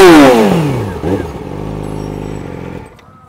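A 2012 Yamaha R6 sport motorcycle with an Akrapovic exhaust starts up, the starter whirring into a quick rev that settles to a loud, close, steady idle, then cuts off near the end.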